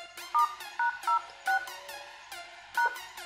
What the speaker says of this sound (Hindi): तो यहाँ पे मैं डायल करता हूँ अपने फ़ोन में